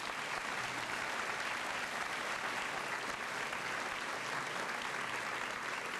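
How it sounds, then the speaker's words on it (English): Sustained, dense applause from an audience at a high school senior assembly honoring students, steady and loud across the whole stretch with no voices rising above it. "Let's give these students a round of applause"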